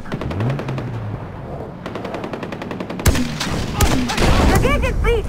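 Gunfire in the Far Cry 4 video game, rapid bursts of shots with loud cracks and booms over game music and shouted voices, growing denser toward the end.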